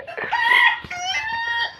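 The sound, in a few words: chicken clucking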